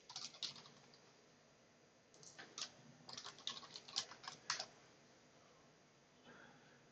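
Short bursts of quick, light clicks from a computer keyboard, a few keys struck near and quietly, with a pause between two clusters of strokes.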